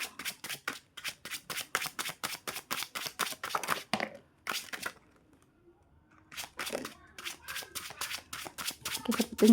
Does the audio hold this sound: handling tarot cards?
yes